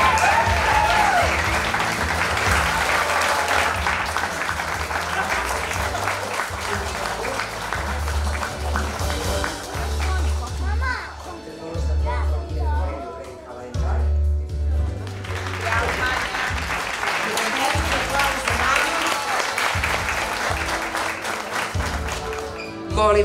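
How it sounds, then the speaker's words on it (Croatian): An audience at a formal awards ceremony applauds this year's champions with loud, sustained clapping that briefly thins and dips in the middle before swelling again to full strength. "Molim vas, stvarno je da najveći aplauz za njih dvoje."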